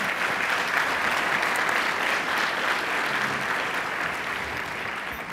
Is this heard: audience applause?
yes